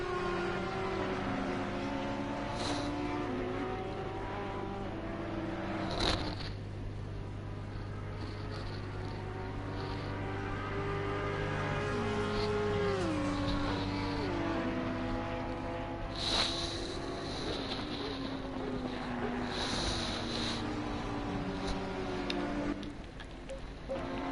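Race cars circle Monza in a racing game, their engines droning steadily with gear-change pitch sweeps and a few sharp clicks, the sound held at moderate level with no voices.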